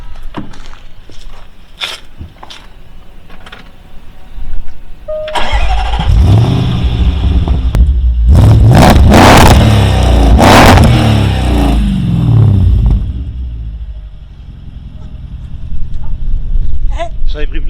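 The 640 hp engine of a Range Rover Sport cranks and fires into a loud bark, then revs hard in several deep swells before settling to a rumbling idle, with people talking close by before and after.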